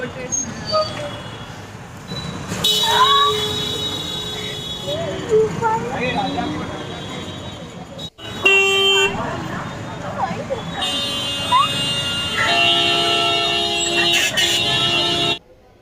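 Busy city road traffic in Patna, India, with repeated car and vehicle horns honking in bursts over a steady engine rumble, loud and close, while people talk throughout.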